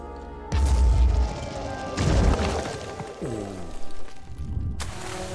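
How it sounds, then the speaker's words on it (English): A rocket launcher blast in the Phoenix Point video game lands as a loud, close boom followed by a second crashing impact and a rumbling, ringing tail. "time to test our new rocket launcher"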